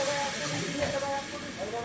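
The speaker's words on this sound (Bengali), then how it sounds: "এবার এটা আমার ভাজা হয়ে গেছে, আমি এখন জল দিয়ে দিলাম" Water poured into a hot pan of fried magur fish for curry, giving a loud, steady steam hiss that fills the short moment at close range.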